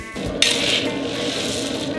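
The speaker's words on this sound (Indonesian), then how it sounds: "Dan kita mengisi kuali dengan kacang mentah berikutnya." Raw peanuts frying in a large cauldron of oil, a steady dense sizzle and crackle with faint metallic clinks, continuous and fairly close throughout.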